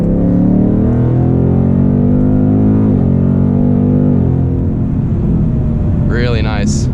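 A Ford Mustang GT accelerates hard and rolls into third gear: a loud, close engine climbs in pitch, drops at the shift, then pulls again, with a short higher whine near the end.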